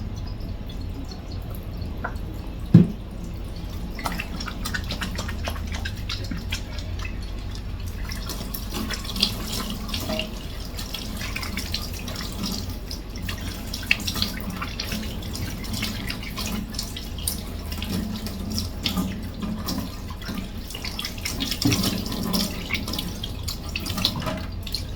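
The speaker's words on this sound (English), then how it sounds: "Now I'm gonna wash my hands" A kitchen tap runs steadily while hands are washed at the sink, water splashing and dripping with small clinks and shifts in the flow, close and continuous with no talk.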